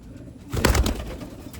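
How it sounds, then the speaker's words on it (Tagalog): Racing pigeons coo nearby, a short burst of soft, throaty calls rising out of a quiet background, loud and close for about a second before fading. "Ito mga ibon natin."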